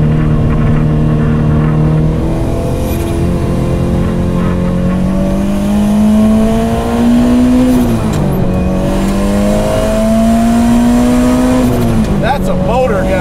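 A loud turbocharged Ferrari 308 race car engine screams steadily near the microphone on a race lap, its pitch climbing and dipping through gear changes over a continuous roar.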